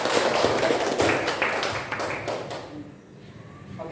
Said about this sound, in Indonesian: Tepuk tangan untuk Angelin.